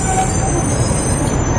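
A city tram rolls along its rails in a steady, loud rumble with a faint metallic squeal of wheels above it, continuous throughout, with no talking.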